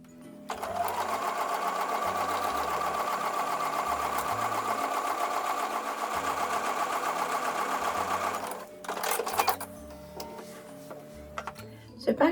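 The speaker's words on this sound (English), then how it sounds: "I'm going to take that to the sewing machine and I'm going to sew a 1/4 inch seam" A sewing machine sews a quarter-inch seam in a fast, steady whir for several seconds, then stops, followed by a few clicks and brief mechanical handling sounds close by.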